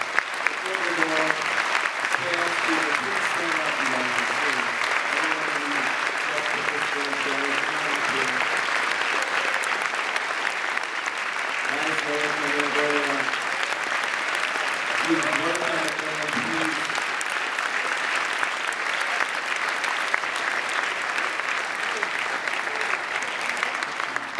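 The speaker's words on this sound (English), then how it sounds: "give them a round of applause" An audience at a Sundance film Q&A applauds for the cast and crew in a long, dense, sustained burst, with a voice briefly speaking over it.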